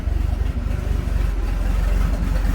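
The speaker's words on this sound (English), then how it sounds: "it's not very loud for a straight pipe 300 inline 6" A 1981 Ford Bronco's 300 inline-six idling through a straight-pipe exhaust in a garage, a steady, fairly mellow low-pitched rumble with even pulsing throb, close by and alone.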